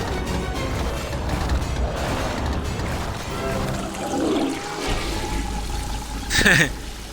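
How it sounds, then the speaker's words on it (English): A video game toilet flush, from Rayman Legends, rushes and gurgles under ongoing talk and game noise, ending with a bright splashy burst. "I love how there's even like a toilet flush sound."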